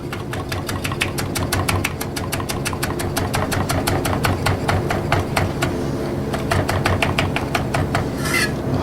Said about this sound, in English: Let's give this a quick chop.